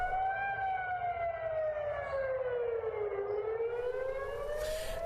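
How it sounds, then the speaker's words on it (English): Air raid sirens wail across Tel Aviv during a rocket attack from Gaza, a loud continuous tone slowly falling then rising again, steady and alone with no voices. "In Tel Aviv, residents scrambled to shelters as air raid sirens rang out."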